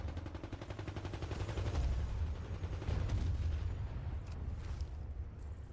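Gunfire in Medal of Honor multiplayer, a video game, is heard as dense, rapid bursts of shots and booms. The bursts are steady and fairly faint, with brief sharp cracks near the end.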